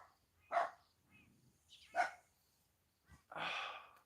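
Dogs bark a few times at a distance, faint and sporadic with long quiet gaps, ending in a longer breathy, huffing sound.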